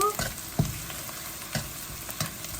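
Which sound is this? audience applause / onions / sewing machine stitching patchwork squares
onions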